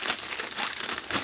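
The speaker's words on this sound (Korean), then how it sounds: "비닐팩에 집어넣어요." A plastic bag crinkles as wet radish greens are stuffed into it for freezer storage, a dense, close crackling rustle that runs for about a second.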